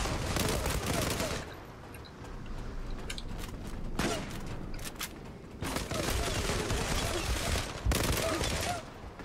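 Dense bursts of automatic gunfire from the online shooter game Zula rattle in long rapid volleys, loud and close, with brief gaps and scattered single shots between them.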